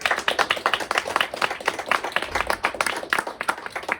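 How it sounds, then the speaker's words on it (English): An audience applauds at an evening event introducing a guest author, giving a steady stretch of many overlapping hand claps that fill the room without pause. "Give this gentleman a round of applause"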